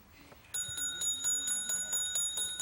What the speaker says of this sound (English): there goes the bell, signifying that we have come to the end of section 2 of today's match